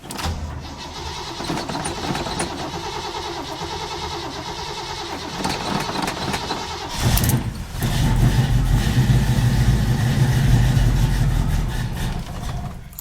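A Caprice hot rod engine cranks through a cold start, whirring for several seconds before catching around the midpoint into a loud, deep, rumbling idle that holds steady nearby.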